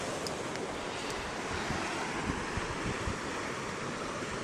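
Pacific Ocean surf washing onto a California shore, a continuous close roar of breaking water and foam with wind buffeting the microphone.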